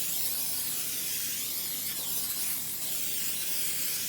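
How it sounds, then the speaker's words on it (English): A continuous, close hiss of Pam cooking spray being sprayed from a can onto a cake pan, steady for the whole stretch. "I'm just spraying it really good with Pam or any other"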